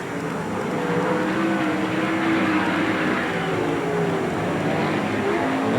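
Sprint cars race around a dirt oval at Manzanita Speedway in a 1992 World of Outlaws event, giving a steady, loud engine roar from the pack that continues without letup.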